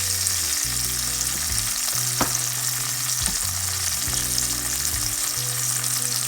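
Garlic paste sizzling in a pot of pork chop stew, a steady loud frying hiss with a few stirring scrapes, no voices over it.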